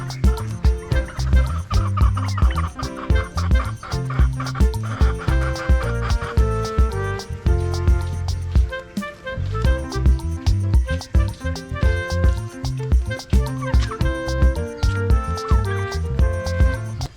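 Turkeys gobble loudly and repeatedly at close range in a backyard farm setting, overlapping calls in quick bursts with a short lull midway, no talk over them.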